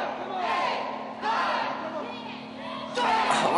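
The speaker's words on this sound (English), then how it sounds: "Crowd counting with him." Wrestling crowd at an MECW event chanting a count in unison as punches land in the corner, loud rhythmic shouts rising in bursts, with a commentator talking over them.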